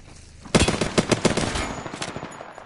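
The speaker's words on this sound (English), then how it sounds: "Opening fire." Video game gunfire: a sudden, loud burst of rapid automatic shots that rattles for about a second and a half, then tapers off with scattered echoing reports.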